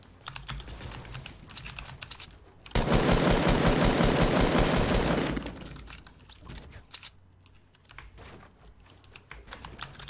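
Gunfire in Fortnite: scattered sharp clicks and shots, then a dense, loud sustained burst of rapid fire for about three seconds before trailing back to sparse cracks.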